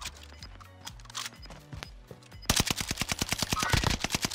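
Owen gun machine-gun fire in a Call of Duty: Warzone match: after a couple of quieter scattered shots, a loud, rapid rattling burst starts midway and keeps going steadily to the end.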